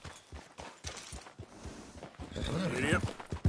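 A horse in the video game Red Dead Redemption 2 whinnies loudly near the end, after a run of soft hoof clip-clops on the ground, close by.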